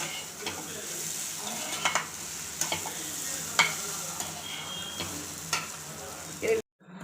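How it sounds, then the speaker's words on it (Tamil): Potatoes with salt and masala sautéing in a pan, a soft steady sizzle under repeated clinks and scrapes of a spoon stirring against the metal, stopping abruptly near the end. "இதில் உப்பு எல்லாமே போட்டானா மசாலா வாடை போடவும் வதக்கி எடுத்துட வேண்டியதான்."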